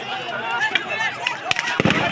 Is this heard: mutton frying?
no